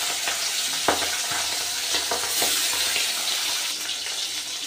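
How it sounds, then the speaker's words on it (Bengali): Pomfret fish fry in white oil in a pan, a loud, close, continuous sizzle with crackling pops and a few sharper clicks of stirring or turning, no speech. "এইভাবেই আমি সব বাকি মাছগুলো ভেজে নেব।"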